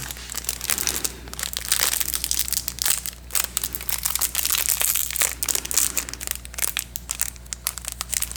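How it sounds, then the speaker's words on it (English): Close, crisp crinkling and crunching of packaging and tape as a taped-down item from a survival kit is pulled open, in dense irregular bursts throughout. "If I could get it open, they have this one taped down pretty good."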